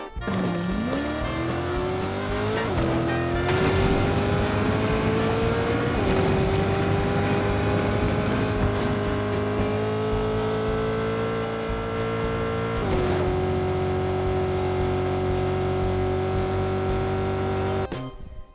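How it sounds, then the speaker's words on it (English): A Fortnite car's engine with a mild muscle-car character, less rumbly than a V8, revs up strongly and holds a steady drone through several gear shifts, each marked by a brief dip then a climb in pitch, heard alone and up close. "The engine sound is cool, not quite as rumbly as a V8, but it has a slight muscle vibe to it"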